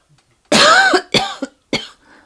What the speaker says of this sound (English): Excuse me, I'm not supposed to cough